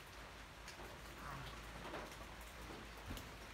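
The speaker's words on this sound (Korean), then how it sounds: "오늘도 비가 와서 아주아주 아주 멋진 날이에요. 비소리, 비냄새." Steady rain falls outside as a continuous, even hiss of drops with no pauses. It is heard alone and fairly faint.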